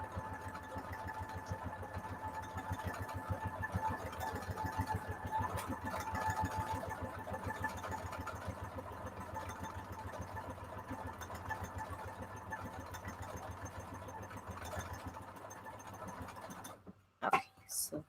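A sewing machine runs steadily, stitching swirling loop patterns into fabric for a junk journal cover, a continuous mechanical hum that stops abruptly near the end with a brief clunk.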